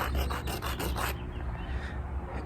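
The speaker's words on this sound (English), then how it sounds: "if you get the right kind of rock, you can use the ground to shape it how you want" A rock rubbed back and forth against the ground to shape it gives rhythmic gritty scraping strokes, about five quick passes, then a softer, steadier abrasive rasp, close by with no talking.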